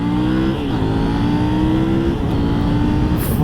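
A 2022 KTM Duke 890 R motorcycle pulls away hard from second gear, its engine note climbing steadily as it accelerates, loud and close with no talking.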